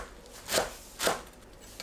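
Knife chopping perilla leaves into thin strips on a cutting board, two distinct soft thuds spaced about half a second apart, fairly quiet and close.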